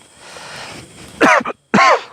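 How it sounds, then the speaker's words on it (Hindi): Two harsh, close coughs burst out one after the other near the end, following a low murmur of background noise at a forest site in a Naxal-hideout area. "खांसी आ रही बार बार।"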